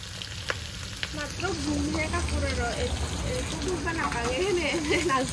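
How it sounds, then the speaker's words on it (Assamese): Boiled potatoes fry in a pan with a steady, close sizzle, while a voice talks intermittently over the cooking sound. "অলপমান ফ্ৰাই কৰি ল'ম আলুখিনি"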